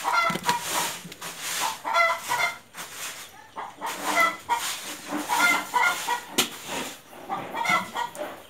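Chickens clucking in a backyard chicken coop at a grandmother's home, with repeated close, lively bursts of clucks and squawks that rise and fall in uneven waves.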